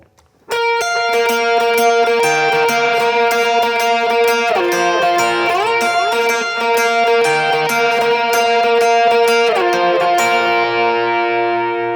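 Lead electric guitar plays the outro of the worship song Majesty (O The Mystery) an octave higher, with bright sustained notes and slides through effects and reverb, loud and close, played alone before a final ringing note fades.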